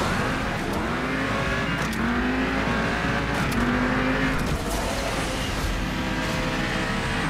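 A Mercedes-AMG GT Black Series drifts in the Asphalt 9 racing game with a loud, steady engine roar. The revs climb and fall through the slide, and tyre and effect noises run over it without a break.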